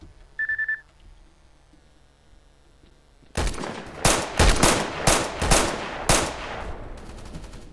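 Pistol shots in S.T.A.L.K.E.R. Call of Chernobyl, eight or so sharp, loud, separate cracks fired in quick irregular succession after a short beep and a quiet stretch.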